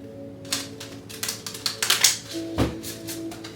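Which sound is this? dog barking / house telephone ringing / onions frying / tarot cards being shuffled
tarot cards being shuffled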